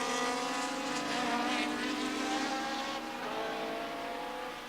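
A Ford C100 race car at Brands Hatch in 1983 runs with a loud, continuous engine roar that swells and slowly eases, with a steady harmonic drone throughout.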